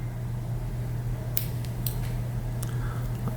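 Scissors cut a notch into a small paper tag, giving a few short, crisp snips spaced apart over a low steady background hum.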